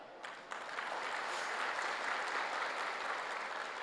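A religious discourse audience bursts into applause, a dense steady clapping that swells in after a few early claps and keeps going evenly, heard from a moderate distance with no voices over it.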